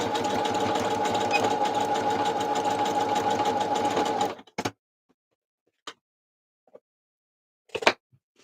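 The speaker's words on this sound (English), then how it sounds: "I always do zigzag stitch for these parts here." A sewing machine runs a continuous zigzag stitch for about four seconds with a steady rapid whir, then stops, leaving near silence broken by a few faint clicks and taps.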